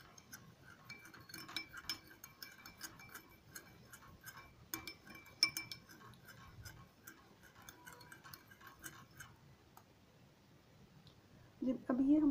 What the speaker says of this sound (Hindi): इन सब चीज़ों को मिक्स कर लेना अच्छी तरह से।